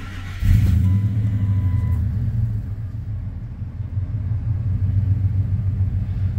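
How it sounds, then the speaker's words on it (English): Supercharged 2000 Harley truck engine firing up from a cold start, a sudden loud catch followed by a steady deep idle rumble that holds on close by. "That's a cold start, you can tell by the temperature gauge."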